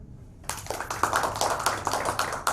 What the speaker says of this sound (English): We should welcome her with a clap.